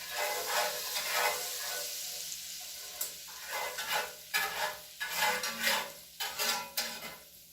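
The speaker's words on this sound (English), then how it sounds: "the butter, mixed with the flavorful remaining oil, is going to help us get some of these brown bits up off the bottom of the pan" Butter and oil sizzle in a pan while a utensil scrapes brown bits off the bottom, giving a steady hiss broken by bursts of scraping.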